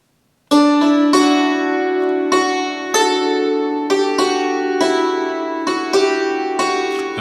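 On a hammered dulcimer, the slow melody of the hymn Just As I Am rings out as single struck notes, each sustaining and overlapping the next, close, clear and unaccompanied after a brief silence.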